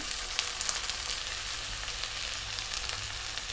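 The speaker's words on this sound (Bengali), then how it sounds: "ধনিয়ার গুঁড়ো দিয়ে মশলাটা আমি ভালোভাবে কষায় নেব" A spice paste of ground garlic, ginger, salt, chili, turmeric and coriander powder fries in mustard oil for a duck curry, giving a continuous close, crackling sizzle with light stirring.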